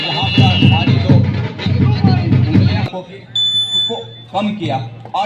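A kabaddi match timer hooter at a Bhilai vs Bilaspur tournament game sounds as a steady electronic tone from about three seconds in, after loud crowd noise and commentary that carry on under it.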